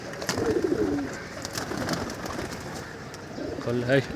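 Pigeons coo in a loft in a repeated, throaty burst near the start and again near the end, with rustling and a faint voice in the background.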